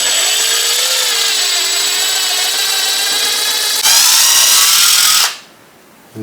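A power drill bores into a wall stud while a curtain rod is being installed, a loud close whining grind that shifts pitch as it bites harder, then cuts off abruptly.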